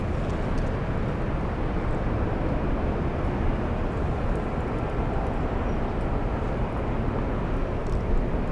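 Airbus A380 taxiing at LAX, heard as a steady, loud broadband engine rumble and roar that holds constant throughout with no voices.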